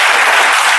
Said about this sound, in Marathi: त्यांच्यासाठी आपण जोरदार टाळ्या मारूया, एकदा स्वागत करूया.